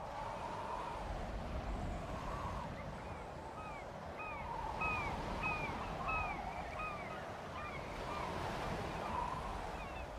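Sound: beach waves and wind ambience in the video game Life is Strange

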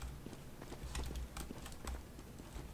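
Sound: enemy player's footsteps in CS:GO video game

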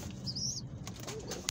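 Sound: pigeons flapping their wings

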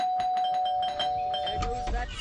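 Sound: doorbell ringing in Scary Teacher 3D video game

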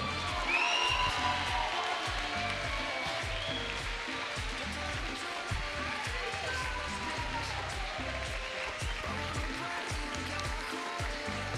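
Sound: audience applause in tribute

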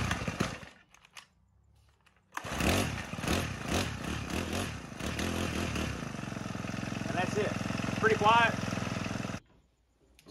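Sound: Husqvarna 324L four-stroke string trimmer running

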